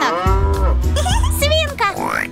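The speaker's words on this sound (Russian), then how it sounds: "Теленок." A cartoon calf's moo in a children's animated song, loud and drawn out over a music backing with sung voices around it.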